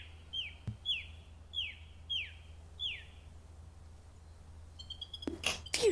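After a run of high, repeated chirping calls, one person sneezes sharply near the end in a sudden, close burst.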